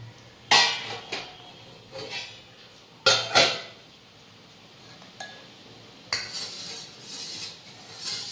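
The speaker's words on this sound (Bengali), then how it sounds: "আর একটু আলু ভাজা দিই।" Fried potatoes are spooned onto a plate in several separate metallic scrapes and clinks spread out with pauses between them, nearby and clear over a quiet room.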